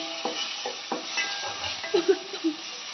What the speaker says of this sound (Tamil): நல்லா கிளறி நல்லா வதக்கிறேன்